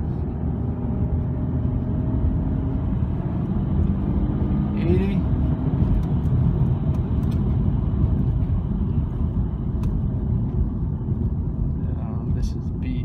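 A Lincoln MKZ AWD with a 3.0L engine launching hard in sport mode, a loud, steady engine roar and road rumble filling the cabin from inside, with someone talking over it.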